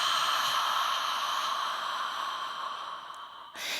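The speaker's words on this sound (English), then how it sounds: "exhale, extend out." A long breathy exhale during a yoga leg extension, a steady airy rush close to the listener that fades toward the end before a brief break.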